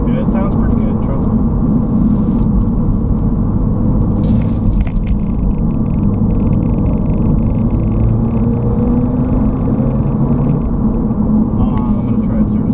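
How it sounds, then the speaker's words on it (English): Engine of a 2016 Audi TT on the road, a loud, constant, deep rumble with a broad roar that stays steady and dominant from start to finish. "Who needs the stereo when you got this engine?"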